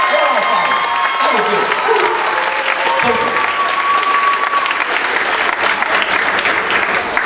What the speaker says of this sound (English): Can we get another round of applause for our guys?